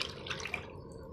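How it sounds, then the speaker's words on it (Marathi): Potato chip slices dropped into a tub of water, making a brief wet splashing and dripping at close range, strongest in the first half and then settling. "मी याला दुसऱ्या टपात असे दोन भागांमध्ये यांना पाण्यात बुडवणार आहे"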